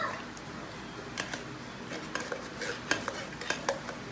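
Baked beans being spooned into a pan, with soft wet scraping, stirring and a few clinks of a metal utensil against the pan, close and fairly quiet.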